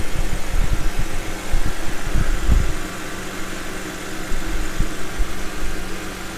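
A car with a ZF 6HP19 six-speed automatic transmission, all-wheel drive, idles steadily at close range with a low, even engine rumble and occasional clunks of work nearby, while no one speaks.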